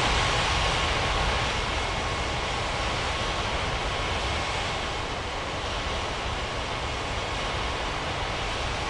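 Airliner taxiing toward runway 27 at Bali's Ngurah Rai airport in an air traffic control game: a steady, loud broadband engine roar and hiss that holds unchanged throughout, with no voices.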